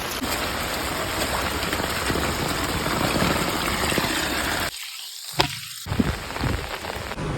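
Heavy rain falls in a loud, continuous wash of drops. Near the end it cuts to a thinner patter broken by a few close knocks and splashes.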